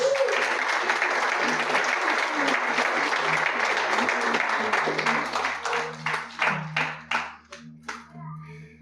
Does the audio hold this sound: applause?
yes